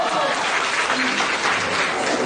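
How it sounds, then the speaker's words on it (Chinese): A theatre audience at a crosstalk comedy show applauds, a dense, sustained wash of clapping that carries on without a break through the whole moment. "掌声一直没断啊"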